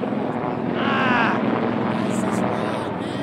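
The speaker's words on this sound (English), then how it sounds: "Like about that helicopter." A helicopter passes overhead on a city street, its rotor noise a steady broad roar that swells slightly and then holds, with people talking over it.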